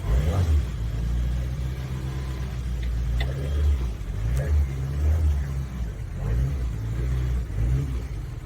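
A Suzuki engine revs on a cold start, a steady low rumble rising and falling as the throttle is held, close and fairly loud throughout.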